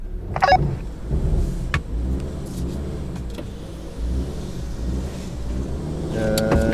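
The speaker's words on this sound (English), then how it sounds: "I'm gonna brake torque it a little bit." Car engine holding a steady low rumble against the brakes before a drag race launch in sport mode, close and continuous, with a few brief clicks and a rising whine near the end.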